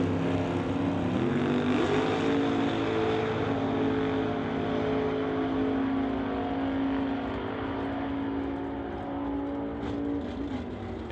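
A 1967 Chevy II and a Camaro drag racing side by side at an NHRA Summit ET series event, giving a sustained engine roar that rises in pitch, then slowly fades into the distance.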